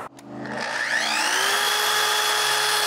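A saw blade spins up from a click, its motor whine climbing in pitch over about a second and then holding a loud, steady high hum.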